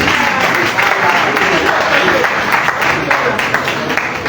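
Attendees at a cooperative professionals' annual general meeting and lecture give another round of applause during an award presentation; loud, continuous clapping from a roomful of people, steady from start to finish.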